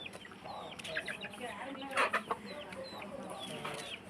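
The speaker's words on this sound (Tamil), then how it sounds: "இதுலேயும் கோழி நிறைய இருக்குது, அதுலேயும் இருக்குது" Chickens cluck and chatter close by in a village yard, several birds making short irregular calls with a louder burst midway, over soft background murmuring.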